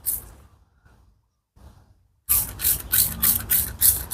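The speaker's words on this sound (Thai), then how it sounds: "พยายามฉีดให้เต็มเลยนะถ้าต้นเล็กๆนะครับ" A hand pump sprayer applies a milk solution to small chili plants: after a quiet start come rhythmic, fairly close bursts of hissing spray and mechanical pumping clicks that repeat steadily.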